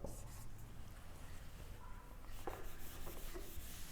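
Faint scratching and rubbing of a marker or chalk writing an equation on a board, quiet and irregular strokes against a low background hum.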